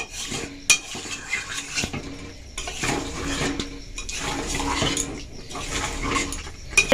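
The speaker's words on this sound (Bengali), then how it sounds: "আলুটা দিয়েছি যেহেতু একটু মিশিয়ে নেব ভালোভাবে" Potatoes are mixed in a pan for Kashmiri dum aloo, with repeated metallic scraping and clanking of a spatula over a light sizzle, close and fairly loud, with a sharp knock early on and no speech.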